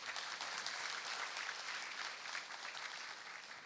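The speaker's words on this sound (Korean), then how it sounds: "다시 한번 큰 박수 부탁드리겠습니다." Steady, dense applause from a large audience after a memorial lecture at an academic conference fills the room throughout, with no voices standing out.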